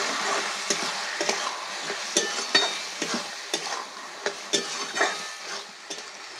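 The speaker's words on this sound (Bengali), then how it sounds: "ভালো করে মিশিয়ে দেবো।" Boiled bottle gourd and potato are stirred together with poppy seed paste in a pan, giving repeated soft scraping strokes over a faint sizzle, irregular and close, with no talk.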